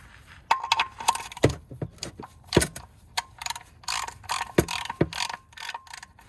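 Ratchet wrench tightening the oil drain plug on a 3.2 V6 Audi TT: a string of close, sharp clicking bursts with metallic clinks, irregular and loud against a quiet background.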